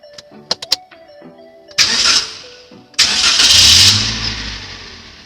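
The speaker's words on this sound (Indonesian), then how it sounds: "Yaitu berikutnya dengan cara menghidupkan mesin." A car engine cranks and catches during emission control servicing, preceded by clicks and a chime, then roars to a loud idle with a rising rev, close by and without talk.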